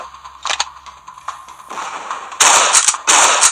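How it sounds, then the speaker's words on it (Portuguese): Rapid gunfire bursts in the video game Pixel Gun 3D: several sharp shots early, then dense, loud volleys of blasts close together near the end. "É só pegar a shotgun e meter 2 tiros."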